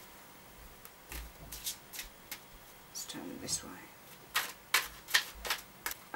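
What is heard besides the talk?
shuffling tarot cards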